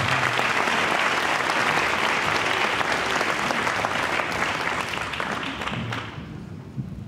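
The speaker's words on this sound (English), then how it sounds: "give them one big resounding applause" A reception audience gives sponsors a long, loud round of dense applause, steady for most of the stretch before fading out near the end.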